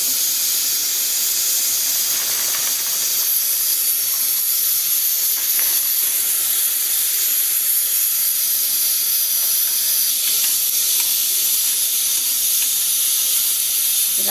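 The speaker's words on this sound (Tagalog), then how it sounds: "Maglagay ko ng mantika kasi nga magsangag tayo ng sharia rice" Oil sizzles in a pan as rice is fried, a loud, steady hiss that runs unbroken from start to finish, close up and with no talking.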